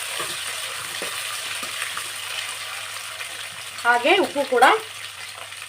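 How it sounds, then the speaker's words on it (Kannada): Chopped onions fry in a pan for raw mango rice, giving a steady soft sizzle throughout, with a person talking briefly near the end. "ಸ್ವಲ್ಪ ಪಿಂಕಿಶ್ ಆಗೋ ತನಕ ಫ್ರೈ ಮಾಡ್ಕೊಳ್ಳೋಣ."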